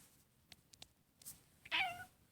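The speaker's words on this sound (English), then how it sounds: "That was my kitty." Pet cat meowing indoors: a few soft clicks and faint sounds, then one short, clear meow near the end, close but fairly quiet.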